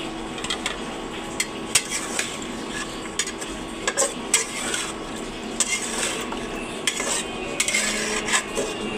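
Curry being stirred in a cooking pot, a spoon scraping and knocking against the metal in irregular repeated clacks and scrapes over a constant background hum, close and fairly loud.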